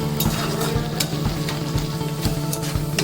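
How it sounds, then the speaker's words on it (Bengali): Onions and chillies sizzle loudly in a pan while a utensil scrapes and taps in a regular stirring rhythm. "ফ্লেমটা একটু বাড়িয়ে নিয়ে এটা আমি একটু ভেজে নেব"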